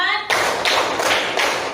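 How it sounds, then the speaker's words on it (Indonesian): A group counting off a rhythmic clapping game in a classroom or training session, beginning with a voice and then sharp, even bursts of clapping landing roughly every third of a second, close and loud. "Tepuk 1, tepuk 2, tepuk 3, tepuk 4"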